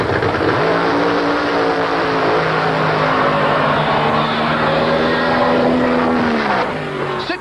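A drag racing car makes its run down the track at the 1985 ADRA Spring Nationals in Tulsa, a loud, sustained engine roar holding steady for several seconds before dropping off at the end.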